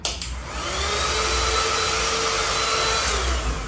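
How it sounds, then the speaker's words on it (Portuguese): A mini vacuum cleaner runs continuously in a home coffee setup, used to pick up spilled ground coffee: a steady, whining motor hum with airy hiss, close and fairly loud, holding an even pitch from start to finish. "o nosso mini aspirador"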